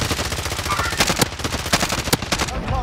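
Rapid automatic gunfire in Call of Duty: Modern Warfare, sharp repeated bursts with a few louder single cracks standing out, close and steady throughout.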